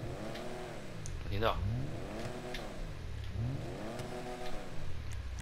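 An upgraded Lampadati Casco sports car in GTA 5 revs repeatedly, its engine pitch climbing and falling in rising and falling waves. The revving stays close and moderately loud while a person speaks briefly over it.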